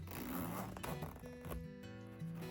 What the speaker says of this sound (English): the zipper moves smoothly both up